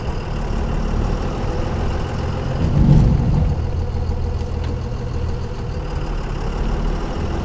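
A truck towing an empty gooseneck trailer weighing just over 4,000 pounds rumbles steadily on the road, a continuous low engine drone with a brief swell midway.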